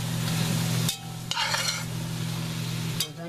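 Onions frying in a pan for liver and onions: a steady close sizzle with a few sharp metallic clinks of a utensil stirring against the pan, no voices.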